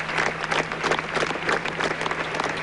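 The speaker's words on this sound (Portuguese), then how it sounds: "os fiéis se despedem do Papa com aplausos" Large crowd of faithful applauding the Pope in farewell after a three-hour papal funeral celebration, a dense continuous wash of clapping with a steady low hum underneath, sustained throughout without speech.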